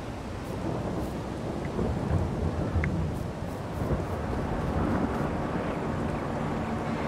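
Thunderstorm weather in Farming Simulator 22: continuous rain hiss with deep, rolling thunder rumbles swelling and fading across the whole stretch, broad and enveloping, with no talk.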